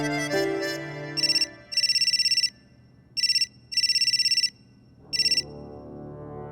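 A phone ringtone plays in short, repeated electronic bursts separated by brief pauses, loud and close, with a low hum early on.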